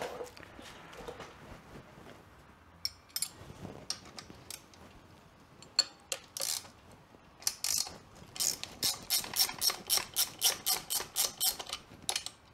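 Wrenches working bolts loose on a 1992 Kawasaki KX125 motocross bike, with scattered metallic clicks and taps, then a quick, steady run of close ratcheting clicks near the end.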